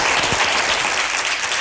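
A TV studio audience applauding, a dense, steady wash of clapping throughout with no talk over it.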